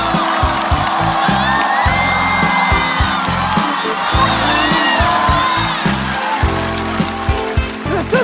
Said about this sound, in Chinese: 这怎么就鼓掌了？